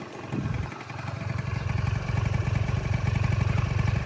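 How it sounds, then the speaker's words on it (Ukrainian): A Honda Tact AF-51 carburetted scooter engine idles nearby with a steady, low, bassy putter that grows slightly louder and holds even. "басистий, приємний тихенький звук по двигунчику"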